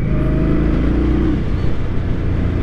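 A 2023 Indian Scout motorcycle engine pulls under rolling throttle on a test ride, a loud, close, steady droning growl with rising tonal whine and wind rush, no talking.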